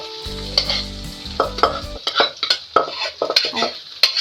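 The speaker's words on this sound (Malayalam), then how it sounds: "എന്നിട്ട് നമുക്ക് ഈ കടുക് വറുത്ത് വെച്ചിരിക്കുന്ന ഈ കൂട്ടിലോട്ട് ഇത് തട്ടി കൊടുക്കാം" Jackfruit mixture stirred into fried mustard seasoning in a pan, with repeated scraping strokes of a spoon and light sizzling, an electronic tone sounding briefly at the start.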